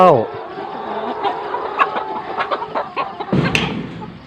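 Free-range laying hens cluck in short bursts over open outdoor farm ambience during morning feeding, a few brief calls rising near the end.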